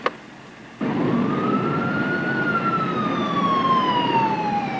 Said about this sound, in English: Red lights and sirens.